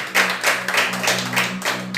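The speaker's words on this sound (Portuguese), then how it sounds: "uma salva de palmas bem forte para Jesus" A church congregation claps loudly for Jesus in a quick, even rhythm of sharp, close claps, with a low steady hum underneath.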